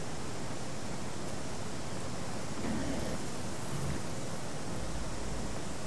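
A waterfall roars in a cold area of the video game Elex II, a dense, steady broadband rush of water that fills the whole stretch at close, loud level.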